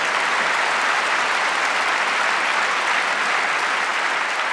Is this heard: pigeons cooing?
no